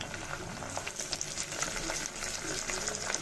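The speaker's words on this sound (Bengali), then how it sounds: "কাঁচা মশলাটা ভালো করে ভেজে নিব" Garlic paste sizzling and frying with browned onions in a pan while cooking chicken biryani, a steady crackling hiss with light stirring scrapes running throughout.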